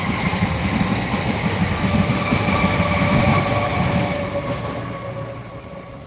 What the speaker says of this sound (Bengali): পাশ থেকে ট্রেন যাচ্ছে বন্ধুরা দেখতেই পাচ্ছে এদিক থেকে